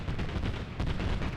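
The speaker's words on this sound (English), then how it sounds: "And you got some long-range GMGs now just firing into this town." Grenade machine guns in the Arma video game fire into a town, producing a dense burst of heavy, booming detonations that land close together and stay loud through a short stretch.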